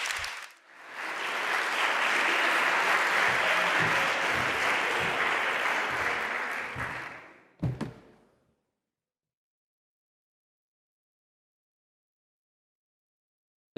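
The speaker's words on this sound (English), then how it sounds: "An applause for you." A conference audience in Padua breaks into loud, sustained applause lasting about seven seconds, followed by a brief knock and then silence.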